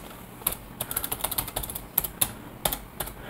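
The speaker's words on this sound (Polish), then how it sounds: "A więc wpisuję je." Someone types a password on a computer keyboard, with a run of crisp, close key clicks at an uneven rhythm, some quick bursts and a few sharper single taps, and no one speaks.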